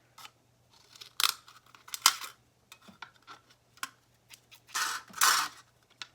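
Dull scissors snip through a thin aluminum can in a string of sharp, crinkly cuts, some louder than others, with short pauses between.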